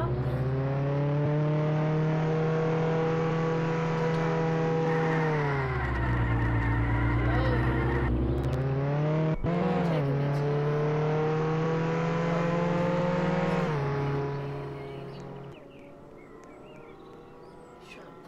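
Car driving in the Roblox game Jailbreak, a loud, steady engine drone that shifts pitch up and down as it speeds and slows, then drops away near the end, with a voice talking over it.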